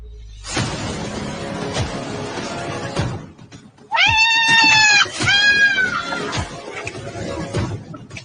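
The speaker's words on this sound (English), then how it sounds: "You don't have to be scared of the kitty." A domestic cat lets out two drawn-out, wavering meows midway through, loud and close, after a stretch of clattering household background noise.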